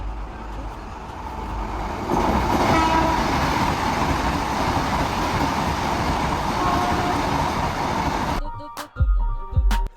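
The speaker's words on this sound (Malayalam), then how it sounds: "അങ്ങനെ നമുക്ക് പോകാനുള്ള ട്രെയിൻ എത്തിയിട്ടോ" A passenger train pulls into a busy Indian railway station with a loud, sustained rumble and wheel clatter. The noise fades near the end, leaving several sharp knocks and thuds.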